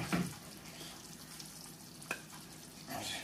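A steak frying in a pan during home cooking, giving a steady, close hiss of sizzle with a few brief louder spatters and stir clicks, heard on its own without talk.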